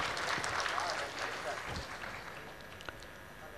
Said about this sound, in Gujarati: જોરદાર તાળીઓ મનોજભાઈ માટે